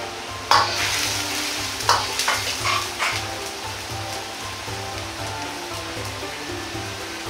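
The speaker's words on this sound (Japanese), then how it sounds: "タケノコ、椎茸、オクラを入れて煮ていきます。" Bamboo shoots, shiitake mushrooms, okra and sakura shrimp simmer in a pan for a shrimp and tofu dish, a steady bubbling hiss with a few louder clinks of stirring early on, close and without talk.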